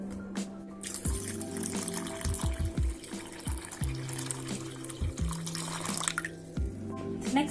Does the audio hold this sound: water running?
yes